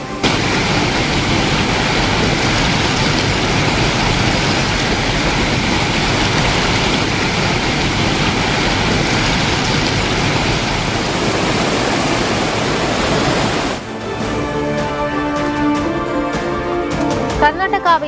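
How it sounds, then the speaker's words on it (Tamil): The flooded Vaigai river pours between its banks with a loud, continuous broadband roar for most of the stretch, then cuts off abruptly near the end. "வைகை ஆற்றின் இரு கரைகளையும் தொட்டவாறு ஆர்ப்பரித்து செல்லும் தண்ணீர்."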